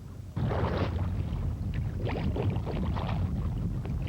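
A kayak paddles across a harbor with ice floes along the walls, steady water sloshing and splashing from paddle strokes close by, with wind noise over the microphone and no talk.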